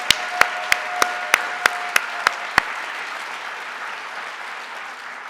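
Audience applause at the City of Somerville mayoral inauguration: a run of sharp, evenly spaced nearby claps in the first few seconds, then a steady wash of crowd clapping that carries on to the end.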